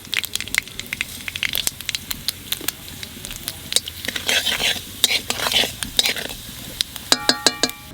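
Asafoetida, black mustard seeds and cumin sizzling in a little white oil, a close crackling fry dense with sharp popping seeds and spatters, with a spoon clinking against the pan near the end.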